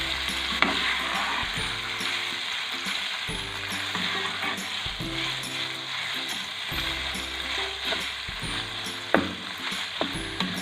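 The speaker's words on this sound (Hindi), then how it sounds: "चिकन को अब हम इसमें फ्राई करते हैं।" Chicken pieces fry in a couple of spoonfuls of butter in a pan, giving a steady close sizzle with irregular clatter and scraping as they are stirred, with no talking.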